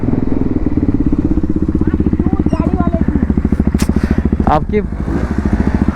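A motorcycle idles close by, its exhaust thumping in a rapid, even pulse throughout. Its tailpipe has turned discoloured from heat. A person speaks briefly over the engine and there are a few short clicks.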